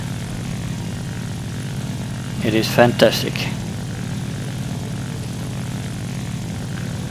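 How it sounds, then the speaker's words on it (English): Steady drone of a La-5F propeller fighter engine in the War Thunder video game, running continuously throughout with a brief spoken remark heard over it midway. "I jump over into another amazing plane in this lineup, which is the La5F"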